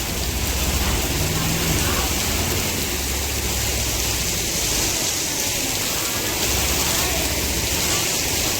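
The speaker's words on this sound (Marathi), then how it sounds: "पाऊस एवढा जोरात चालू आहे" Heavy rain pours on Ardhapur town near Nanded in a steady, dense hiss that stays loud and unbroken from start to finish.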